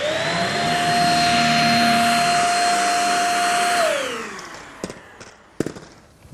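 A cordless stick vacuum picks up fine dust from a hard floor. Its loud, steady whine holds for several seconds, then winds down as the motor shuts off, followed by a few scattered clicks and knocks.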